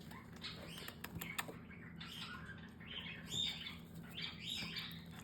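Baby cockatiels give soft, repeated chirps while being hand fed from a syringe, mixed with light rustling and wing flutters, close and fairly quiet over a low steady background hum.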